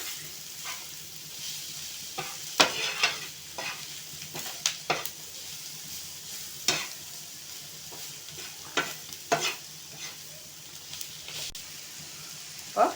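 Paneer fries crisp in oil for chilli paneer, a soft steady sizzle punctuated by repeated sharp clinks and scrapes of a spatula stirring in the pan, nearby with no talk.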